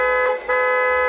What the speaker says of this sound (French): si tu trouves que le klaxon ne te plaît pas parce qu'il manque de puissance